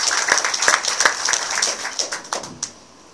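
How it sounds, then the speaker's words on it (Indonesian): A church congregation claps in a quick, uneven rhythm, sharp individual claps standing out close by over a brief stretch. "Berikan tepuk tangan dibuat"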